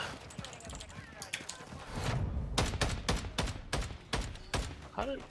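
Rapid bursts of automatic gunfire in Call of Duty Modern Warfare 3, loud and close, firing in repeated volleys with short gaps, over busy game noise and clattering mechanical clicks.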